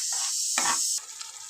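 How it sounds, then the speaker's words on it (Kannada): Tamarind and jaggery mixture for temple-style puliyogare gojju simmers over a low flame, giving a steady close hiss with a brief louder bubbling burst in the middle before it settles to a quieter simmer. "ಬೆಲ್ಲನೂ ಮತ್ತು ಹುಣಸೆ ಹುಳಿನ ಮಿಕ್ಸ್ ಹಾಕಿ ಕುದೀತಾ ಇದೆ"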